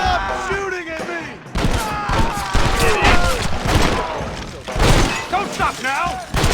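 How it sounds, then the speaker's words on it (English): Shootout gunfire in the video game Red Dead Redemption, with repeated bursts of shots and impacts under near-constant shouting voices, loud and dense throughout. "Stop shooting at me!"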